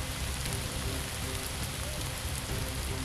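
Rain falls steadily in a continuous dense patter on surfaces, a close, even wash of drops with no letup.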